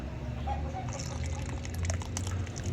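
Corn flour mixed with coconut milk and water is poured, giving a soft, continuous liquid trickle at low level with faint background noise.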